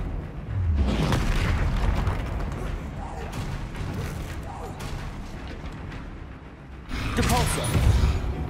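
Confringo spell blasts from the video game Hogwarts Legacy go off as deep booms, one early and a heavier cluster near the end, with a rumbling mechanical clatter of combat sound in between.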